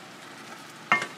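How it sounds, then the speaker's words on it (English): Fat-free vegan potatoes bubble in a pan with a soft, continuous simmering hiss, broken near the end by a sharp scrape as they are stirred. "And you can see in the pan they're now boiling like crazy."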